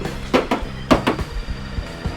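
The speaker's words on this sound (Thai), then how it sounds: "ดูรอบคันเลย ลองเคาะดูครับ" Several hollow knocks rapped on the metal body of a used pickup truck, arriving in irregular pairs and singles, close and fairly loud, with no talking.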